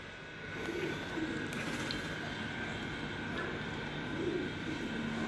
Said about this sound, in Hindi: ये अलमारी वाले कबूतर हैं, ये पुराना कबूतर है